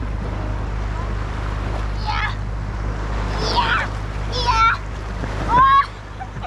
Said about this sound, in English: Watch out for the waves.